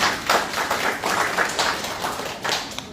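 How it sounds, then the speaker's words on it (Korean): An audience at an art gallery event claps together in a burst of fairly close, lively applause. The hand claps come in uneven waves and run the whole way through without any talk. "여러분 멀리서 오신 우리 임 회장님 박수 가지고 있습니다"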